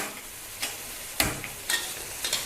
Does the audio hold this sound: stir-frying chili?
yes